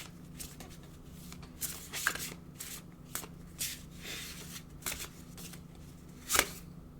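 Oracle cards being shuffled by hand, a series of soft riffling bursts and papery flicks at irregular intervals, close and quiet over a faint background hum.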